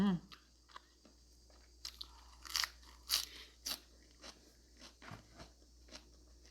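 Close, crisp crunching bites of chicken gizzards come in irregular bursts, each a sharp crackle of chewing on something firm and crunchy, with quiet pauses between.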